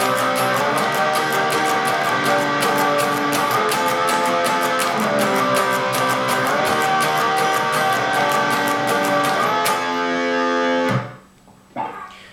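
Distorted electric guitar playing the pre-chorus of a song, a loud, steady run of repeated picked chords that cuts off abruptly near the end, with no voices.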